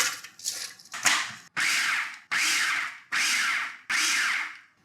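A food processor chopping cabbage for coleslaw, running in repeated short pulses of loud whirring motor noise, each burst about half a second long with short gaps between, close and alone.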